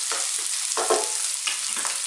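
Onions fry over maximum heat for chicken chow mein, a loud, continuous sizzle broken by a few stirring scrapes close by.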